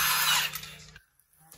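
A Milwaukee power tool whirs loudly for about a second while taking a wheel off a 2013 Honda Odyssey, then cuts out abruptly, leaving near silence with a faint mechanical noise after.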